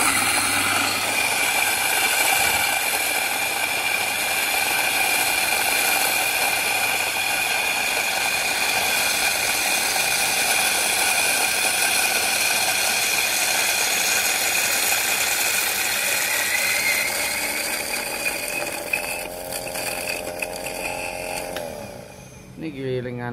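An electric coffee grinder grinding coffee beans for cold brew at a medium setting, giving a loud, continuous mechanical whir for about twenty seconds before winding down.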